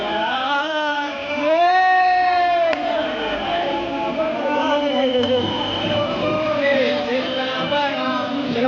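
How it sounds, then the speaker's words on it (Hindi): A large crowd of pilgrims at the Sawan Mela near the Ganga, on the way to Neelkanth, makes a dense wash of many voices with chanting and shouting, close and loud throughout. "चलो भाई भीड़ हो रही है बहुत ज़्यादा"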